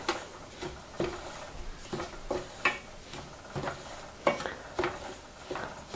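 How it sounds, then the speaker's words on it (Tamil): Dry semolina (rava) being roasted in a pan gives off a soft, fairly quiet rustle, broken by irregular scraping strokes and small ticking knocks of the spoon against the pan; no voice is heard. "ரவை நல்லா வறுபட்ட ஸ்மெல் வர வரைக்கும் நல்லா வறுத்துக்கோங்க"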